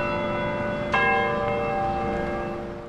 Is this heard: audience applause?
no